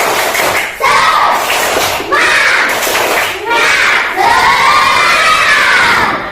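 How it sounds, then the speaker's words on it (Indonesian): Classroom of children shouting a rhythmic spirit-clap chant in unison during an icebreaker, four loud bursts of voices with claps, close and energetic. "Ice breakingnya tentang tepuk semangat"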